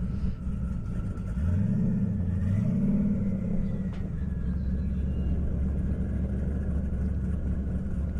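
A Camaro and a Corvette launch side by side in a half-mile drag race on an airport strip. The engines rumble loud and close, with a rising rev that sweeps up and settles into a steady, heavy drone.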